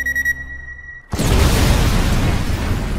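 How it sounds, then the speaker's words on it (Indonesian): A film car blowing up: a sudden loud explosion cuts in after a second of thin electronic tones, then a sustained roaring rumble of blast and debris fills the rest. "Dan mobil Matt pun meledak beserta Anders."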